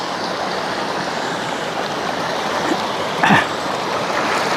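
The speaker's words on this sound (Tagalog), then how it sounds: "Ilog na tatawirin natin." River water rushes steadily at a crossing near Kayrilaw, Nasugbu, a constant broad roar close by, with one brief sharper sound partway through.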